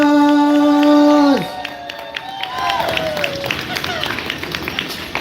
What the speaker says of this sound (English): Round of applause for Mariachi Angelitas!